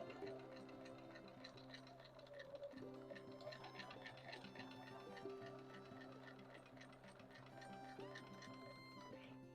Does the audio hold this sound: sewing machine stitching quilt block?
yes